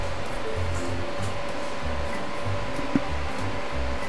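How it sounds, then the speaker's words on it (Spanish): A sewing machine stitching a straight seam on a fabric top hums at a steady, fairly loud whir with a faint rhythmic pulse, alone and close. "Pasamos costura recta en esta parte."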